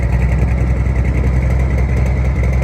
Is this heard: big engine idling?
yes